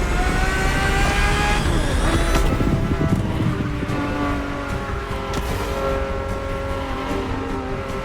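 A high-revving Ferrari sports car engine in The Crew Motorfest video game roars steadily, with gear shifts and a loud, continuous mechanical whine filling the whole stretch.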